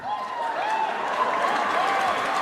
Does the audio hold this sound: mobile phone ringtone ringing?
no